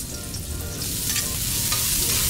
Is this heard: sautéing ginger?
yes